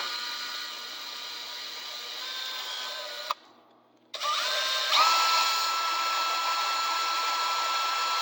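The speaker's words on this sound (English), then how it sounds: "Let the drill do the work." A power drill whines steadily while installing a Walbro fuel pump kit on a BMW N54 engine, stops for a split second, then spins back up and keeps running at a constant pitch.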